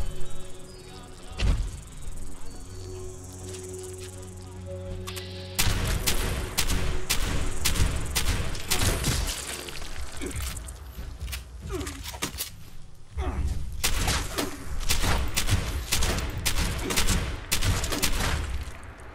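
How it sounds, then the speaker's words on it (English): Sustained machine gun fire in Fallout 76 rattles loud and dense over crackling in-game ambience, with a brief steady hum before the shooting begins in earnest and keeps going in long overlapping bursts. "Machine gun."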